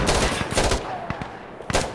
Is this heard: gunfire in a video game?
yes